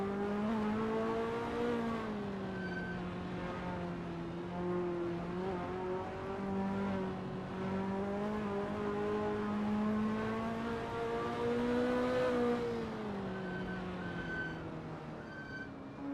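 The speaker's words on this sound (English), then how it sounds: "That ASRL Ferrari F40 looks good driving through Liukop Bend." A Ferrari F40 race car laps Kyalami in a racing video game, its engine a sustained, loud drone that rises and falls in pitch through the corners, with no voices.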